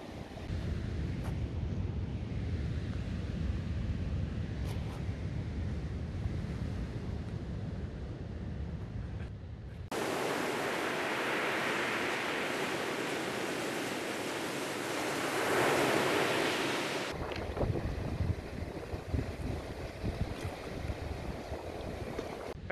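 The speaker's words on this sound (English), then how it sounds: "So this is the river after 50 millimeters this morning and last night." A river swollen after 50 millimeters of heavy rain roars continuously, loud and broad, with a brighter, hissier stretch partway through; no voices.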